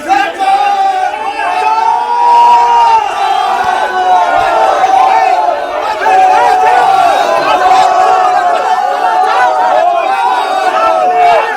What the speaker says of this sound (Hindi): लोगों ने पहले तो सुकुमार दत्ता के खिलाफ नारे लगाए, चोर चोर के नारे लगाए